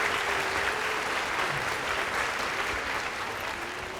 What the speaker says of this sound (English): you can go and applause for these people because they've worked extra hard